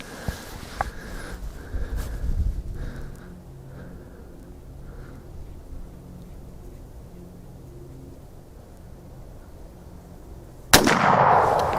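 A Winchester 30-30 lever-action rifle fires a single sharp, loud shot at a bottle near the end, following a long stretch of quiet outdoor ambience with a few faint knocks.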